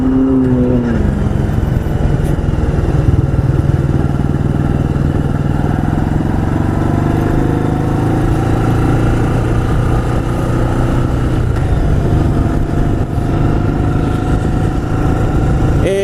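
A 1985 Yamaha Virago 700 V-twin motorcycle rides along steadily, its engine droning loud and close with a slight shift in pitch partway through, mixed with road and wind noise.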